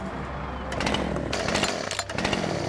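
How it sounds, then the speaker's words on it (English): A chainsaw runs in the farming video game Fool's Farm, a loud buzzing engine roar that revs and sputters unevenly, heard alone with no talk. "The chainsaw's gonna be really loud."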